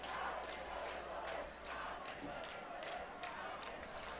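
Student crowd cheering at a high school football game, Madison Central against PL Dunbar, a steady wash of distant massed voices with faint shouts rising through it.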